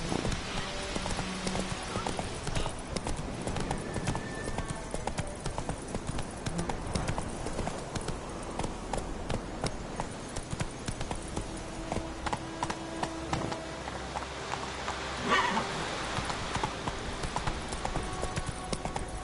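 Roach, a horse in The Witcher 3, walks with steady, continuous hoof clip-clops close by, and a brief whinny sounds near the end, over a busy ambient game backdrop.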